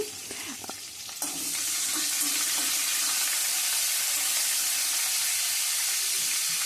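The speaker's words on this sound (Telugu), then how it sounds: "కొంచెం కరివేపాకు ఇది ఒకసారి బాగా ఫ్రై అవ్వాలి" Curry leaves hit hot oil in a pan while fried rice is being cooked. A sudden loud sizzle starts and then holds as a steady, dense hiss of frying, close by with no talking.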